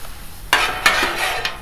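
Chorizo and eggs cook on a 36-inch Blackstone griddle, where a spatula scrapes and flips the food against the hot steel in a few sharp strokes over a steady low sizzle, close and clear with no talk.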